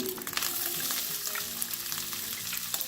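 Chopped onion frying in rendered bacon fat in a pan, a steady close sizzle and crackle with occasional stirring scrapes, no voices.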